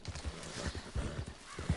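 Rhythmic clip-clop of horse hooves at a steady trot in Red Dead Redemption 2 Online, fairly close and clear, with no talking.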